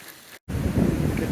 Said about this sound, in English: Getting a bit blowy.